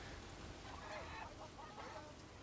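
Roosters at a cockfight in the video game Sleeping Dogs give a few faint, short clucking and crowing calls over a low background murmur.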